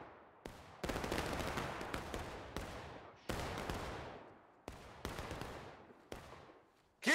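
Gunshots ring out in the multiplayer battle game War of Rights on the Reno's Fall map: about eight sharp, loud reports at irregular intervals, each fading into a long echoing decay, with no voices.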